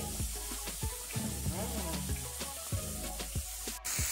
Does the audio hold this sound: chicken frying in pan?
yes